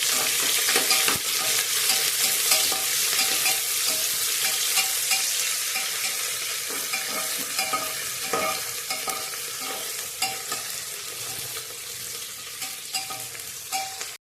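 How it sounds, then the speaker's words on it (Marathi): Chopped onion roasts in hot oil for green-pea masale bhaat, a steady close sizzle broken by frequent spoon scrapes and stirring clatter, with no talking. "कांदा भाजून घेऊया"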